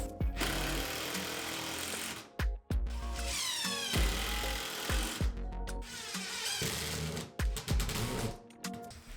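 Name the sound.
driving pocket hole screws into pantry shelf supports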